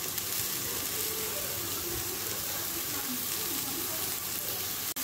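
Onions frying in a pan for a spinach pie give off a steady, even sizzle that holds without a break for the whole stretch.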